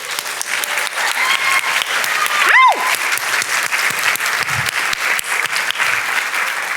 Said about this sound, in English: I'm going to make y'all clap for her.